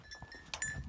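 Bells worn by a string of pack goats clink faintly and irregularly in an outdoor setting, a few soft metallic tinkles and rustles with no one talking.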